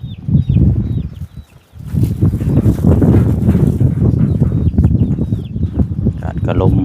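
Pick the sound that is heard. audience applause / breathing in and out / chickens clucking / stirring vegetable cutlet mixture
chickens clucking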